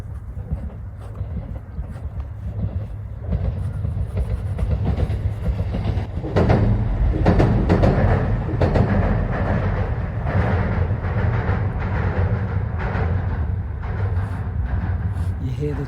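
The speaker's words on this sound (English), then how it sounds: "You hear the train" A train rolls past nearby, its rumble swelling and then holding steady with rhythmic clatter, while someone talks over it.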